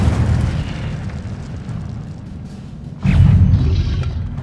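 Incendio fire spell blast in Hogwarts Legacy, a loud, dense roaring burst that holds steady and then swells again with a fresh whooshing surge near the end.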